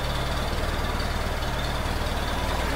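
A Chevrolet Opala 77 with a 2.5-litre engine idles in a steady, loud, rumbling run with an even low pulse and no revving.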